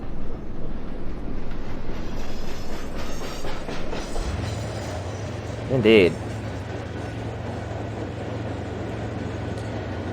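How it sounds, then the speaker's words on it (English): Fully loaded 558-ton lumber train heading to a paper mill in the video game Chris Sawyer's Locomotion, a steady rolling rumble with clickety-clack, while a voice speaks briefly over it. "A fully loaded lumber train"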